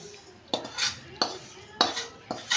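A spoon scrapes and clinks against a pan as a roasted sesame and jaggery mixture for tilgul ladoo is moved onto a plate. Four close, sharp scrapes come at a steady pace, with no talk.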